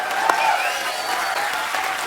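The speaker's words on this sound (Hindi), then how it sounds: "जोरदार तालियां।" Studio audience on The Kapil Sharma Show breaks into loud, sustained applause, dense steady clapping with a few sharper claps standing out near the start.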